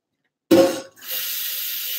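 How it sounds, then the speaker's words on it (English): Water is added to a cooking pot: a sharp splash as the pour starts, a brief lull, then a steady hissing flow of water continuing close and even, with no talking. "we're just going to add a little bit of water to it."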